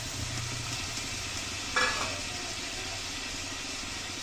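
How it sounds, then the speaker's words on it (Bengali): Frying greens are stirred with salt in a pan, a quiet sizzle under one brief scraping stir, with a low hum running in the background. "ভালো করে মিশিয়ে নেব"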